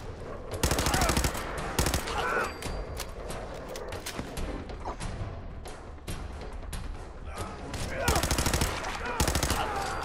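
Rapid bursts of auto pistol gunfire in Fallout 4, sharp cracks in quick clusters near the start and again toward the end, over a steady background of game sound.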